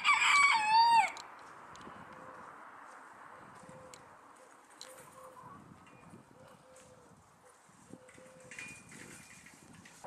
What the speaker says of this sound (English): even here in the gardens, there are chickens and hens, doves